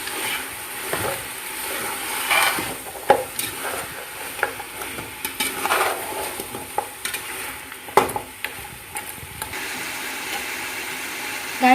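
Mutton fries with whole spices in a pot under a constant sizzle, while a spoon stirs and scrapes in irregular clinks and knocks up close.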